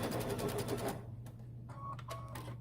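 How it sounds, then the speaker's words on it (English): A sewing machine stitches a quarter-inch side seam on a half apron with a rapid, even run of needle clatter for about a second. It then stops, leaving faint handling clicks and a low hum. "We're using a 1/4 inch seam allowance, and we're just stitching down the side on one side."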